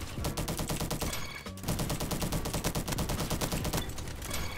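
Rapid, loud bursts of automatic gunfire from the Roblox shooter Bad Business rattle on continuously, broken by a brief gap near the middle, with no voices.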